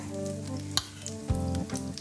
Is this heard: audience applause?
no